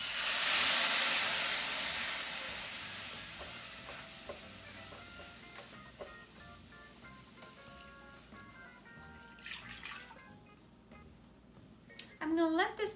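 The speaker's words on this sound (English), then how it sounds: "I'm going to be adding in some vegetable broth" Vegetable broth poured into a hot pan of creamy coconut and turmeric sauce for basa catfish, opening with a loud hissing rush that fades into softer sizzling, stirring and scattered clinks.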